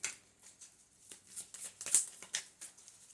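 A deck of playing cards being shuffled, a sequence of quick papery riffles and snaps with the brightest burst near the middle, moderately close and alone.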